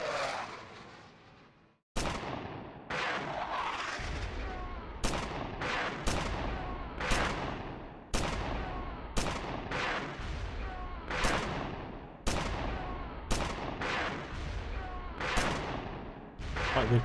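Combat gunfire and artillery from the video game SuperPower 2 sound as a steady series of sharp, booming shots about once a second, each with a short decaying tail, moderately quiet and alone.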